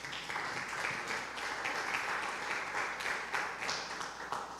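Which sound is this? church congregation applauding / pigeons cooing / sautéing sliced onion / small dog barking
church congregation applauding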